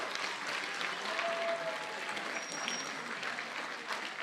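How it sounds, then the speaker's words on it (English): Steady applause from an audience at an 8th grade school awards ceremony for students, a dense even wash of clapping lasting throughout, moderately distant. "If you could join me in giving these students a round of applause."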